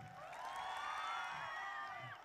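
A crowd cheers and whoops for Ganjar Pranowo at a public gathering in Kendal, a steady, fairly distant wash of voices with some high shouts, faint and continuous throughout.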